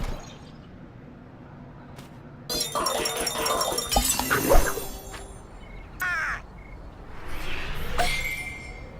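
Harsh seagull cawing calls ring out in bursts over a steady electronic background, with clinking, game-like effects mixed in, in the video game Flipping Death.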